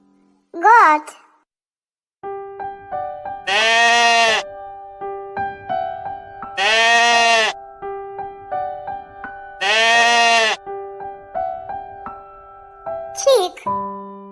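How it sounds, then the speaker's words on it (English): A goat gives three long, wavering bleats spaced evenly apart, loud and close, over a light children's song melody, with short squeaky calls at the start and the end. "Goat."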